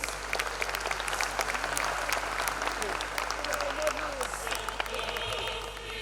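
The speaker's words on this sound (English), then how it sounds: "A round of applause, ladies and gentlemen." Audience applause at a KwaZulu-Natal education results function, a steady crackle of many hands clapping at moderate volume over a constant low hum, with faint voices mixed in.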